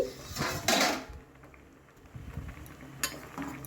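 A metal tiffin box lid being taken off a pot during steaming, a couple of clattering metallic clinks and scrapes up close, followed by quieter bubbling and a final clink.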